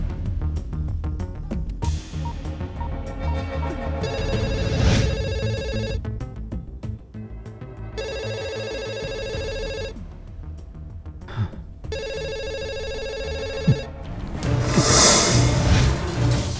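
A phone rings in repeated electronic bursts separated by short gaps, loud and close, with some rustling and a whoosh near the end.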